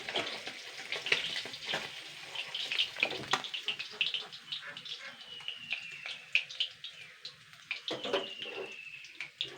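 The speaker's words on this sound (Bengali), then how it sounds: "এবারে আমি এখানে কয়েকটা আলু ভেজে নিচ্ছি।" Potato pieces frying in hot oil in a pan for a Bengali fish curry, a soft steady sizzle with crackling pops and a few clinks of a utensil, fairly faint and heard alone.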